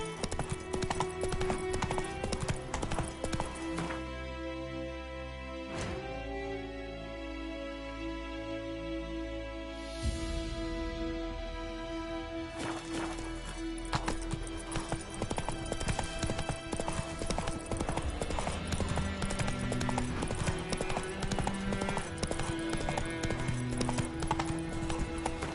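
Roach the horse in a video game, hooves clip-clopping in a steady rhythm over most of the stretch, pausing briefly partway, with a whinny and music or ambient tones underneath.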